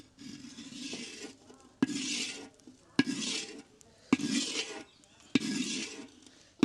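Fried blood scooped from one cooking pot into another pan, with repeated scraping spoon strokes about once a second, each a sharp clatter followed by a soft scrape, close and moderate in volume.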